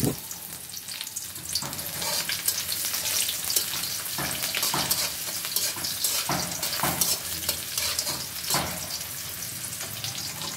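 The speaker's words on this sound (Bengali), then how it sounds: "দেখো পেঁয়াজগুলো ভাজা হয়ে গেছে।" Chopped onions and dried chillies frying in hot oil with cinnamon and bay leaf, a loud steady sizzle broken by repeated scraping stirs of a spatula against the pan, close and without voices.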